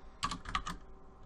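A short burst of computer keyboard typing, about five quick close keystrokes in a fast cluster, then quiet.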